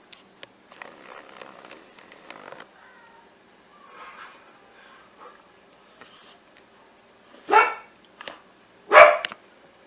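A child imitates a dog's bark in a kitchen: faint murmurs and clatter, then two loud, sharp barking yelps close by, the second the strongest.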